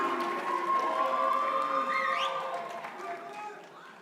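Graduation commencement crowd applauding and cheering in a large hall, a dense sustained wash of clapping with whoops and voices that fades toward the end.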